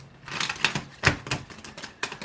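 Quick papery riffles of a deck of cards being shuffled in short bursts, a few sharper snaps standing out, close and fairly quiet with no talking.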